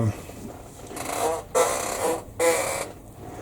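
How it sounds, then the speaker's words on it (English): Three loud creaks from a chair seat, each lasting about half a second, spaced roughly evenly, close up with a quiet room behind them. "One is my creaky seat."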